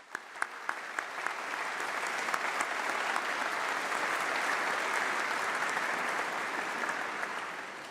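Sustained applause from a large graduation ceremony audience, opening with a few sharp individual claps before swelling into steady, dense clapping that holds at an even level and then tapers slightly at the end.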